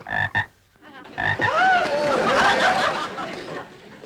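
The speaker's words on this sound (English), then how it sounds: "This is my frog, Sam." A pet frog in a shoebox gives a run of loud, close croaks and warbling chirps, beginning with short bursts and then a longer sustained stretch of rasping calls.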